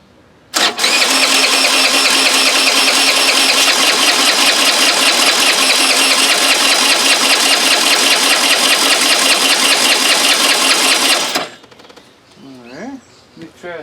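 A 1983 Honda Elite scooter engine, pulled from a scrap pile, cranks loudly with a steady rapid chatter for about eleven seconds, then stops abruptly, followed by faint background sounds.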